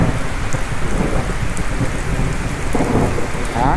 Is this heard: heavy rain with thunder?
yes